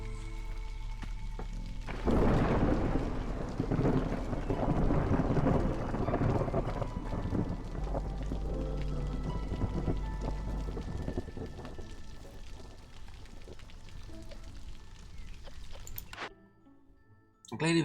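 A game thunderstorm in Against the Storm brings a dense, steady wash of heavy rain with low rumbling thunder, swelling early and holding before cutting off near the end, while a person talks over it.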